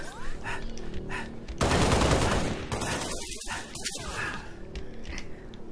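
A burst of rapid gunfire in Halo Reach modded prop hunt multiplayer, a dense roaring volley lasting about a second amid quieter game ambience and a few scattered smaller shots.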